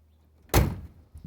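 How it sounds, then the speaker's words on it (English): A single solid thump as the door of a 1966 Ford Mustang swings shut, close and firm with no rattle, followed by a brief quieter rustle. "you'll notice when I close the door, close very nice. There's no rattle, there's no looseness to the door"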